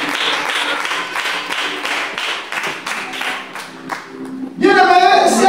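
A church congregation claps together during a sermon, a dense stretch of many hands close by that runs for several seconds and blends into the room's voices and sound.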